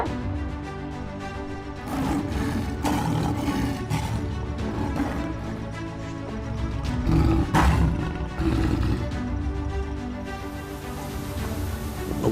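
Lions roar and snarl as they rush in to attack, a loud, sustained wild-animal roaring with heavy rumbling bursts that swell and fade over several seconds, close and continuous, with no talking.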